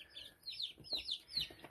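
Bielefelder chicks and young ducklings peep and chirp in a brooder, several high, repeated calls close by, no one talking.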